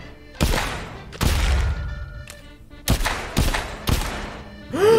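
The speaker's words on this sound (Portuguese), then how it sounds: "Chega de ficar dando tiro nos caras." Several sharp gunshots in a VR video game ring out, loud and close, in uneven bursts with pauses between them, ending on a rising electronic tone.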